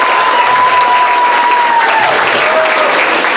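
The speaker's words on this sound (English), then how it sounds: "Can we give all the staff at ECC who helped us out a big round of applause?" A big round of applause from the audience for school staff at a community college variety show, loud, dense and unbroken for the whole stretch, with a faint sustained tone running underneath.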